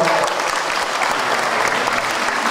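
A crowd at an outdoor school running event in Pásztó claps steadily for the sponsors, a dense, even wash of applause with no voices over it.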